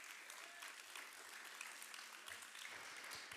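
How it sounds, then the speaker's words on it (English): An audience applauds after a talk in a conference auditorium at PyCon Greece 2025, a faint, distant-sounding, steady wash of clapping with a low murmur beneath it. "Let's give Panagiotis another strong round of applause for his great talk."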